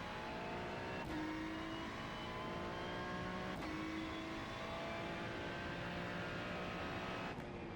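A Ferrari 296 GT3 race car in the iRacing simulator at Magny-Cours accelerates at full throttle, its engine note climbing steadily through the gears with sharp upshift breaks at regular intervals, loud and sustained.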